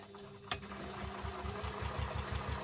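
A home sewing machine topstitches along the top edge of an urban messenger-style diaper bag, running in a steady, rapid rhythmic chatter after a brief sharp click.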